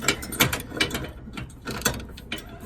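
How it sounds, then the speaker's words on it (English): A 22mm ratchet and socket tightens the bolt on an OEDRO 2-inch rear trailer hitch receiver fitted to a Dodge Ram, giving quick bursts of close, sharp ratcheting clicks separated by brief pauses. "then using a 22mm ratchet and socket,"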